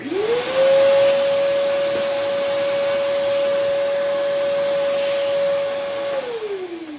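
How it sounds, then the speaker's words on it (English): A vacuum cleaner runs in a guitar workshop, its motor spinning up quickly to a loud, steady whine with a strong sustained tone for about six seconds, then winding down as it is switched off. "going to hit the vacuum for a second."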